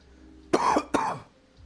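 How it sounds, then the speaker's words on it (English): Two quick coughs in succession, close and fairly loud, followed by quiet. "I apologize if I'm coughing or snorting or sniveling throughout a lot of this"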